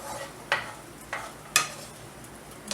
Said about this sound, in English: saute these onions in this bacon grease, bacon flavoring